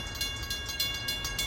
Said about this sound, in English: I see that northbound train in the binocs.